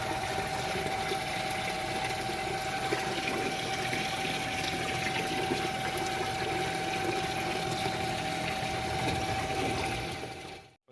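Steady rushing water fills the filter chamber of a backyard koi pond, a constant close hiss with a faint mechanical hum underneath, running unbroken for several seconds before cutting off abruptly.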